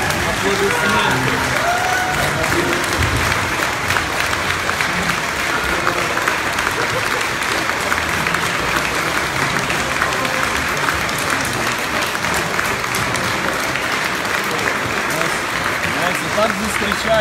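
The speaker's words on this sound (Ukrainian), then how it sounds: "Одеські депутати, стоячи під аплодисменти" Sustained standing applause from Odesa city deputies in a council chamber, dense steady clapping that holds for the whole stretch without letting up, with a murmuring crowd mixed underneath.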